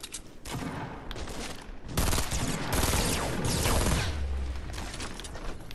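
Rapid gunfire in Fortnite Battle Royale, with dense bursts of automatic shots and sharp reports that intensify midway and stay loud throughout, without any talking.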